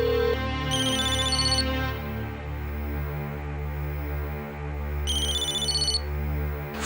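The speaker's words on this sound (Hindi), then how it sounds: "फोन है घर से।" Telephone ringtone in a home, an electronic melodic ring sounding loud and close, repeating in two bursts with a bright chiming phrase over a sustained tonal background.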